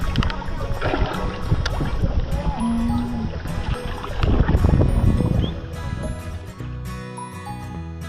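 A boat ride across Situgunung lake, a pine-ringed lake in Sukabumi, with steady water and motion noise running throughout and people talking over it.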